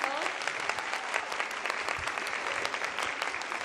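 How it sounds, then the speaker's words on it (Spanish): A seated audience at a book fair talk with Anna Todd, FILBo 2018, claps steadily and densely throughout, a loud, even wash of applause with no break. "un aplauso para Ana"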